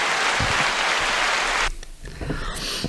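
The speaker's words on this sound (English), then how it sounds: "Let's get a round of applause." A small studio audience applauds podcast guests Gabriella and Jenny, a thick burst of clapping that cuts off sharply partway through, followed by quieter voices and light sounds.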